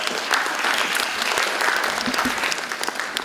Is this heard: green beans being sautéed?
no